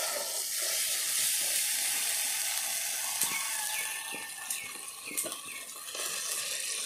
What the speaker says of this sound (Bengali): এবার মশলার মধ্যে দিয়ে দেব ভাজা আলুগুলো।